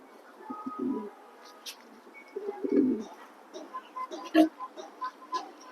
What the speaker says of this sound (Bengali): দেখেন ভাই কবুতর গুলা কি সুন্দর মানে প্রচুর স্পিড মাসাল্লাহ